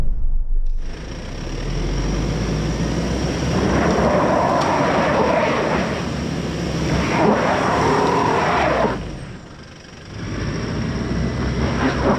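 Toyota Prado 250 GX driving off-road with traction control off and its wheels spinning, giving a sustained loud rumbling drone of engine and tyres that surges and dips, with a brief quieter lull near the end.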